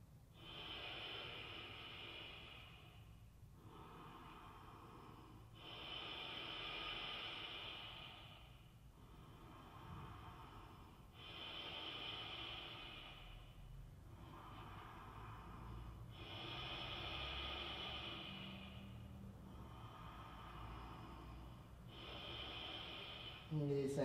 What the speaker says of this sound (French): Respiration bien profonde, respiration Ujjayi.